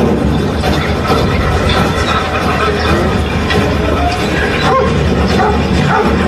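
A dog sniffing for a fugitive in rural farmland barks and yips amid a loud, dense wash of outdoor noise, with voices mixed in.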